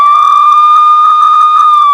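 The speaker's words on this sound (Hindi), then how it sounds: "बहिनी ये के पुलिस के गाड़ी के सायरन बाजत बाय।" A police car siren wails loud and close, holding a steady piercing tone throughout with nothing else audible.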